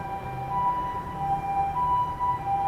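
An ambulance siren wails steadily at a moderate distance in Ginza, Japan, its tones holding level over a continuous rumble of traffic with no voices.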